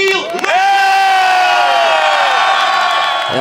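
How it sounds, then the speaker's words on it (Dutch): A crowd at a youth cyclocross championship in Belgium cheers and whoops loudly for the new champion, with sustained shouting and a high rising whistle over the roar. "Uw applaus voor Gilles Lejeune!"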